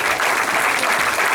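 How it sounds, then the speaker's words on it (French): An audience claps for a performer at a show, a dense, even roar of applause that holds at full volume for the whole short stretch. "Vous pouvez l'applaudir!"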